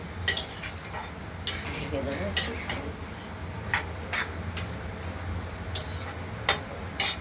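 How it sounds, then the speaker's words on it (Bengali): Banana flower curry with potatoes and raisins being stirred in a pan: scattered sharp clicks and scrapes of a spoon against metal, irregular and fairly close, over a low steady background hum. "এবার আমরা নাড়াচাড়া করতে থাকবো"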